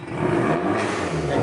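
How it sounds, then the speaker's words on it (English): Vauxhall Corsa VXR engine revving loudly nearby, a sustained growling drone with no voices over it. "that sounds like a nice car, loud"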